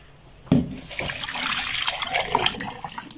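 Water poured into a measuring container for a 50 centilitre measure, a short splashing pour that starts abruptly and runs steadily for about three seconds, close and alone.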